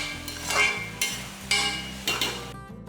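Brinjal for kathirikai kotsu sautés in a pan as a spatula scrapes through it in steady strokes about every half second, over a continuous close sizzle.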